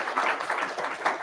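A short burst of audience applause, many hands clapping in a dense, uneven patter at moderate volume, slightly distant.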